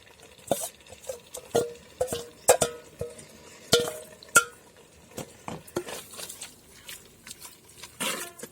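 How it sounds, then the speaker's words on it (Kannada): Boiled ivy gourd tipped into a pan and stir-fried, with a steady series of sharp spatula clinks and scrapes against the pan at irregular intervals, close and fairly loud, with no talking. "ಬೇಯಿಸಿಟ್ಟಿದ್ದ ತೊಂಡೆಕಾಯಿನ ಹಾಕ್ತಿದ್ದೀನಿ."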